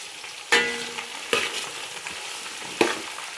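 Garlic, ginger and green chilli fry in a pan for gooseberry pickle, with a steady soft sizzle broken by three sharp spoon-scraping stirs, close and fairly quiet.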